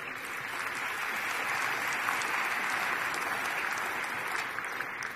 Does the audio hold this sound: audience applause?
yes